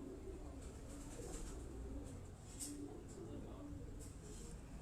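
Rooftop pigeons in Rawalpindi coo softly over steady outdoor background noise, giving several faint, low coos across a few seconds.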